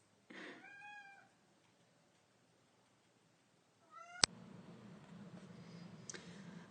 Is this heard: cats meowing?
yes